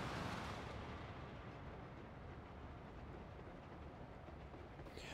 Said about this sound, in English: Following a train through all of this.